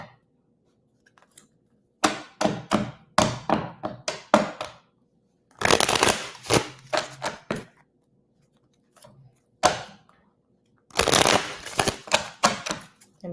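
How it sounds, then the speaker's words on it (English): A tarot deck is shuffled by hand in several crisp bursts of riffling and slapping card sounds separated by pauses, close and fairly loud, with no voices. "let's start shuffling"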